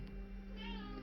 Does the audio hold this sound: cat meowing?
yes